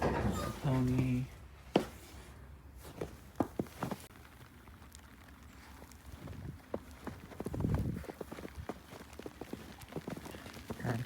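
A pony's hooves clop in scattered, uneven steps on a farm, with a few sharp knocks early on and denser shuffling hoof falls later. A voice speaks briefly near the start.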